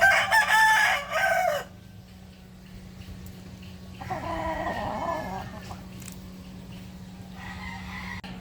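Sweater gamefowl roosters crow loudly and close at the start, then hens cluck in bursts over a steady low hum on a gamefowl farm.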